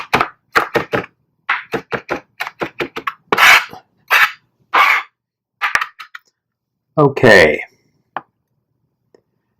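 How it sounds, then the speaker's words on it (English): Sharp knife strikes chopping fresh cilantro on a cutting board in a home kitchen, arriving in an uneven run of close, crisp taps with short pauses, and a voice speaks briefly. "we're done chopping the cilantro"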